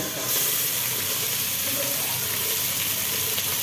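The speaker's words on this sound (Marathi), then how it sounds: "तेलामध्ये हिंग तमालपत्र आणि आता कांदा ऍड करतो" Chopped onion hitting hot oil already seasoned with asafoetida and bay leaf, a steady loud sizzle and hiss that fills the whole moment without pause, up close in a home kitchen.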